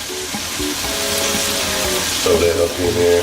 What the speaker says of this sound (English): Frying over there.